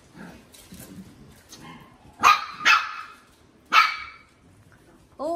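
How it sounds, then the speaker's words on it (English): A dog barks three sharp times, close and loud, with softer whimpers and muffled sounds between the barks. "Who is barking?"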